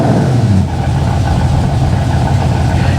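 A 1964 AC Cobra with a 4.7 litre V8 engine, loud and close, with a steady deep rumble and a rising rev at the start before it settles into a sustained throaty drone.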